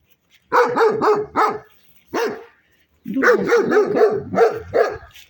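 A dog in a winter garden barks close by in quick bursts of sharp, repeated barks, pausing briefly between volleys, with no other voices over it.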